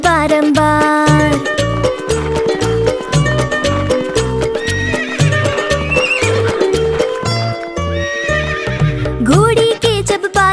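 A horse whinnies and clip-clop hoofbeats sound over a bright, rhythmic children's song with a steady beat, the neighing rising loudly from the music near the end.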